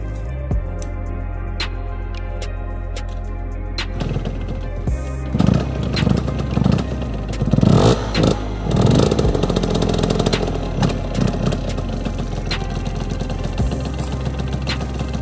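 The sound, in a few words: motorcycle engine starting and revving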